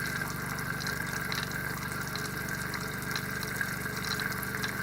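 Steady rushing water from an RV sink faucet with hot and cold both open, constant and close, with no pauses or voices.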